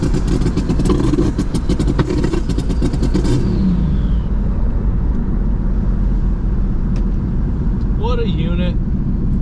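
A turbocharged Jeep engine runs loudly throughout, with revving bursts early on before settling to a steady idle, while someone speaks briefly over it.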